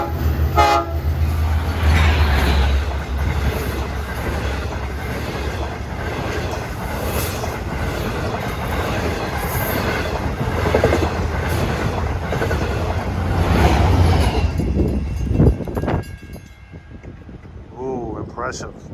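Montauk commuter train roaring past at close range, clattering wheels and a loud horn blast, rumbling for many seconds before pulling away; someone talks over it.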